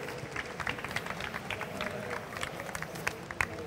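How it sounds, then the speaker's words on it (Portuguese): Audience applause at a business-model talk at Campus Party Brasil, a crowd clapping steadily and densely throughout, fairly soft and distant, with a few sharper claps standing out near the end. "uma salva de palmas para o Rafael Carvalho."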